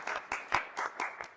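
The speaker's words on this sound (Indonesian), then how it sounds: "tepuk tangan buat Lintar." Applause for a student in a classroom lesson, a few short faint bursts of clapping in an uneven rhythm, heard briefly and alone.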